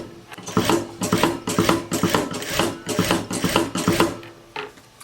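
An industrial sewing machine runs in short, rapid bursts, its clattering mechanical stitching rising and stopping about eight times in quick succession, loud and close with no talking.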